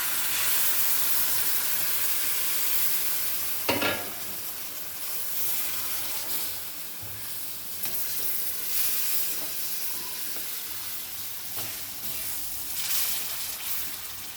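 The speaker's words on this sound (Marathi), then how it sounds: "आता हे मसाला मी तिथंच फ्राय करायला" Spice masala for mutton fries in a pan with a steady broadband sizzle and hiss throughout, interrupted by a few brief stirring scrapes.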